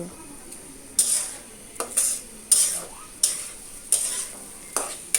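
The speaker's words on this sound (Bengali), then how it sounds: "সবগুলো মিক্সড করে একদম ভালোভাবে নেড়ে চেড়ে নিব" A spoon stirs khichuri in a cooking pot, scraping and knocking against the sides in steady strokes about every second, with a faint sizzle underneath and no voices.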